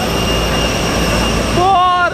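A commercial airliner's jet engine roars loudly and steadily at an airport, with a rising whine near the end and a voice talking over the noise.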